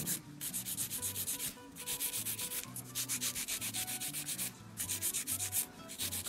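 Acrylic nails being shaped with a nail file into a pointed form: steady, close rhythmic rasping strokes in quick repeated bursts, with brief pauses between sets and no talking.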